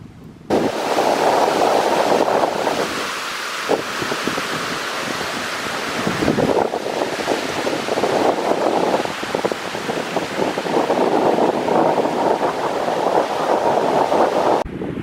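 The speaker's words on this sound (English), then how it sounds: "Here you can see a lot of moving water looking out on the lake" Wind-driven water moving on a lake near a boat landing in Maine in spring, a steady, loud rushing wash with buffeting wind across the microphone throughout.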